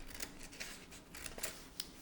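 Scissors snip through black paper in a series of short, crisp cuts spaced irregularly, close and quiet with no talk.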